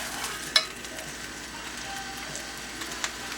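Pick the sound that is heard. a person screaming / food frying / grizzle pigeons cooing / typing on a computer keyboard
food frying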